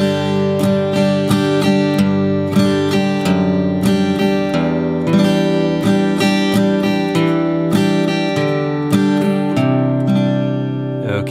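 Acoustic guitar strumming busker-style open chords in a steady rhythmic pattern, full and close, each strum clearly struck over ringing sustained notes with no talking.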